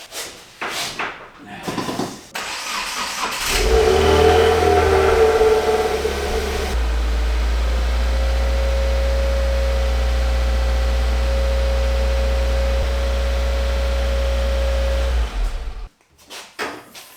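A VA Subaru WRX with an FA20 engine and aftermarket intake parts cranks, catches and rises into a loud rev, then settles into a steady, droning idle for several seconds before cutting off; talking comes before and after.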